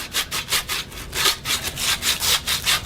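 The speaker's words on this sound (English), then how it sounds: "take a piece of sandpaper and clean up the end of that" Sandpaper scrubs the end of a copper pipe for a frost-proof sillcock faucet, a steady, rhythmic back-and-forth rasping of about a dozen close strokes with no talk.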